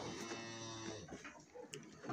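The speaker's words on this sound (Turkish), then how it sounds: "Qo'ylarni yemdi yapti." Sheep feeding in a pen at a newly built farm enclosure, giving close, continuous munching and rustling of feed with a few animal calls and knocks over about two seconds.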